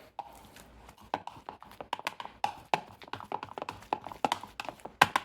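Deviled egg filling of yolks, mayo, brown mustard and lime juice being mixed in a bowl, a quick irregular run of close tapping and clacking as a utensil strikes the bowl, with no talking.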